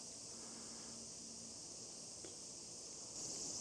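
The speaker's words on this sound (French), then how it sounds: "Et toujours des cigales." Cicadas in summer in Kamakura, Japan, make a continuous high-pitched buzzing drone that holds steady throughout and swells a little louder near the end, with no voices.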